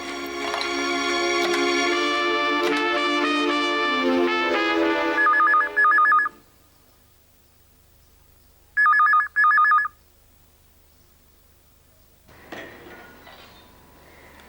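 An old-style telephone bell rings loud and close in a home, one long ring and then a pair of short bursts, while music plays underneath before fading away.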